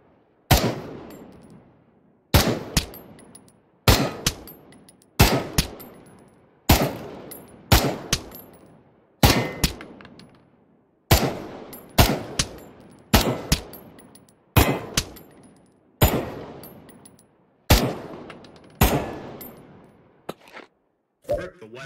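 Gunshots from shooting targets in the VR shooter Pavlov: about a dozen loud, sharp single shots spaced roughly one to two seconds apart, each ringing out with a short decaying tail, with no talking.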